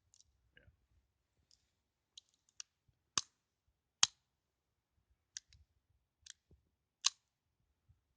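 A German P.08 Luger pistol's toggle worked by hand, giving a scattered series of about a dozen sharp metallic clicks, close and crisp, separated by near silence.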